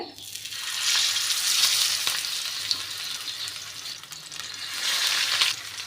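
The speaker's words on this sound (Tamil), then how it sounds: "மீன் பொரிக்கும் போது எப்போவுமே இரும்பு சட்டியில் பொரிங்க." Steady, loud sizzling of fish frying in oil in an iron pan over medium heat, a continuous crackling hiss that swells and eases, with no talking.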